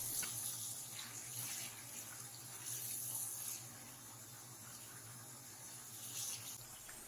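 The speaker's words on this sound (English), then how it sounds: "After blanching for 4 minutes, discard the water from the pot." Hot blanching water from cooking beef tripe gushes out of a pot into a sink, a steady moderate splashing flow heard close and alone, easing slightly partway through.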